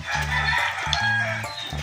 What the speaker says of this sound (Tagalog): Tingnan natin yung aking alagang manok